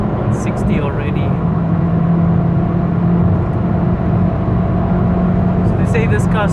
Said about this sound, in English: that's what the acceleration looks like in the Mito QV